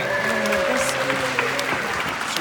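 A convention audience claps in a dense, sustained burst, heard fairly close, with faint tonal sounds underneath and a few sharper claps standing out.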